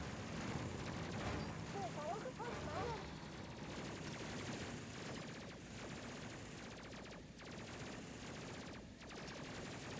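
Ship weapons in the Space Crew video game fire in a dense, continuous barrage of rapid gunfire-like bursts, loud and steady throughout, with no break in the volley.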